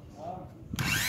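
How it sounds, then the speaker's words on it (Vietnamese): A power drill bores a small pilot hole while fitting an automatic seat-lift strut to an XMEN electric scooter, whirring up loudly near the end after a quieter stretch with a voice talking. "Sẽ dùng cái máy khoan này để khoan trước một cái lỗ nhỏ nhỏ"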